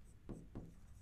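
Two short chalk strokes on a classroom board, about a quarter second apart, each a brief scraping burst, close and moderately loud over a quiet room.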